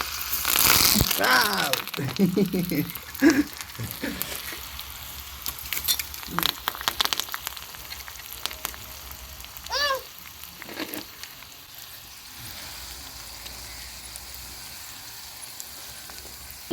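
Curry leaves and dried red chillies crackle and sizzle loudly as they drop into hot oil, then the frying settles to a quieter fizz, with people talking over the first half.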